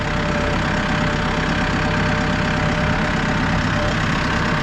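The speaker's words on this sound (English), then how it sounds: "you're driving a Massey Ferguson" A Massey Ferguson 2E.60 hydrostatic compact utility tractor with a 57.3 hp engine drives in its slow range, its engine making a loud, steady, close drone with a knocking rumble and no talking.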